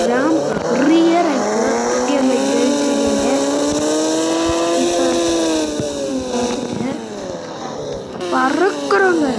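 A car engine in the mobile game Indian Bike Driving 3D revs high and loud as the car drives over a ramp, a sustained sweeping whine that rises and falls with tire noise, with no speech over it.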